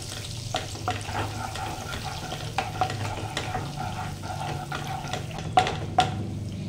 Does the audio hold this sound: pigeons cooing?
no